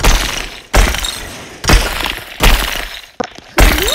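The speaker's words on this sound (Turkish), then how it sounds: "Kırılıyor mu lan buzlar?" Ice being broken near a car comes through as four loud, sharp cracking and shattering impacts spaced about a second apart, each one followed by scattered crunching debris, close up with no talking.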